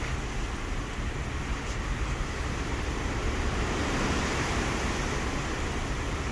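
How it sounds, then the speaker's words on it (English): Ocean waves heard from a ship's deck before dawn, a steady, even wash of surf and water noise with no distinct breaks, continuous throughout and fairly faint. "Hear the waves."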